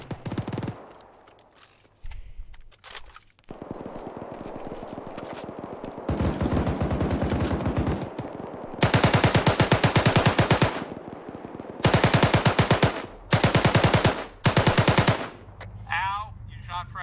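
Automatic gunfire in a multiplayer shooter video game: scattered shots at first, then loud sustained bursts of rapid machine-gun fire separated by short pauses, with a faint voice at times.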